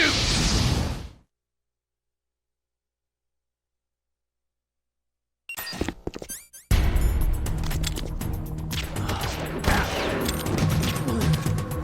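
Gunfire erupts in the stealth action game Metal Gear Solid: The Twin Snakes after a brief burst and a long silence, with dense, continuous shooting and explosive blasts filling the final several seconds at high volume.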